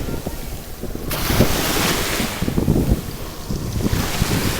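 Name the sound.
ocean waves on the Connecticut shore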